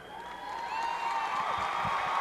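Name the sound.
applause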